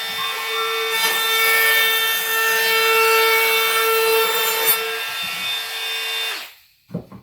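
A router cutting a beaded edge into a piece of wood, a loud steady high whine held for about six seconds before cutting off, with a couple of faint knocks after it stops.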